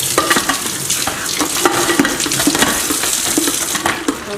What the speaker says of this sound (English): we're going to scrape off the bottom of the ricer with the spatula